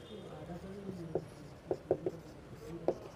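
Chalk or marker taps and scratches on a board in a few short, faint strokes as a definition is written, with a low murmur of background room sound.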